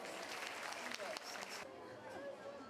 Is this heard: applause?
yes